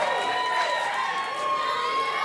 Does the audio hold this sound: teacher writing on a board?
no